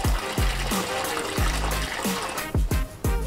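Water fills a category 5 tank through a faulty ball valve, with a continuous gushing flow and repeated gurgling, thumping surges at irregular intervals, close and loud.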